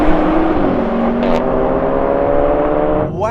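An Audi S3 accelerating hard in a drag race gives a loud, close engine drone with rising tonal whine that climbs steadily, then briefly shifts near the end, with no voices.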